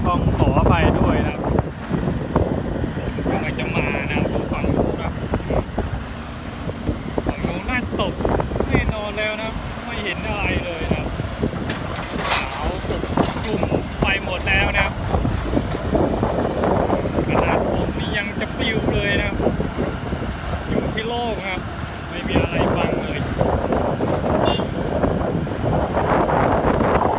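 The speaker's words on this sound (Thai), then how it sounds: "โอ้ลมแรงมากเลยน่าจะได้ยินเสียงลมนะ" Strong wind buffets the microphone at an outdoor site where a Caterpillar 336 excavator digs laterite, a continuous rough rumbling roar that swells and fades, with someone talking over it at times.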